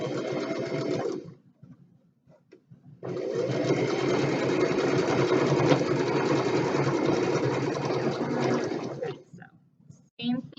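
A sewing machine stitches a quarter-inch quilt seam in two close, loud runs of rapid, even whirring, a short pause between them and a brief restart at the end.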